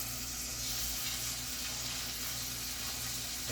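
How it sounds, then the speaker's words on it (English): Food sizzles and crackles steadily in a hot frying pan, a continuous bright hiss with a low hum underneath, and no voices. "Hear that sizzle?"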